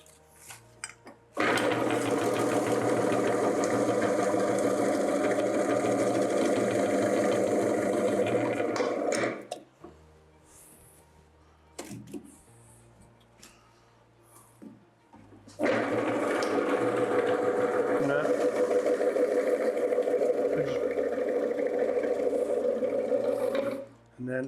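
A Robot Coupe CL50 commercial food processor runs loud and steady for about eight seconds, stops for a quiet pause broken by small knocks and handling sounds, then starts again and whirs steadily to the end.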